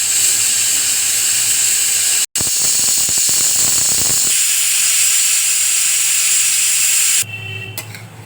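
A pressure cooker cooking soybean and potato curry lets off steam through its whistle as a loud, sustained, close hiss, broken by one brief cut, then easing off near the end.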